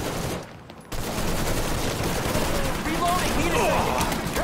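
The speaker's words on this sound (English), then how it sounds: "Oh, who is shooting at your own man?" Bursts of gunfire from a street ambush outside an outdoor restaurant in Mafia III, a dense rattle of rapid shots after a brief lull, with a shouting voice mixed in.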